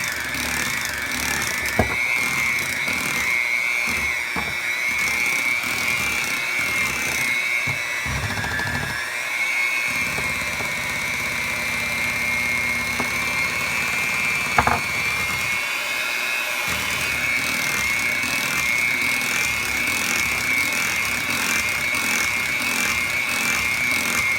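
Electric hand mixer beating eggs into cheesecake batter for a Heath Bar cheesecake, a steady high whine with rattling and scraping of beaters against the bowl throughout, close and continuous.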